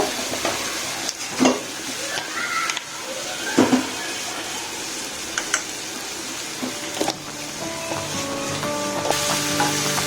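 A spicy bhuna masala with ginger paste and salt fries for a prawn dish, giving a continuous sizzle under repeated scraping and clinking spatula strokes, close and without speech.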